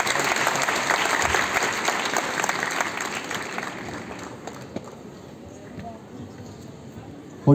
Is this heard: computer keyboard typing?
no